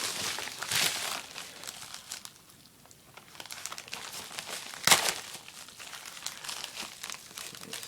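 Cardboard packaging around a Besh knife being pried open and crinkled up close, a steady run of crackling and crumpling with a sharp tearing burst partway through.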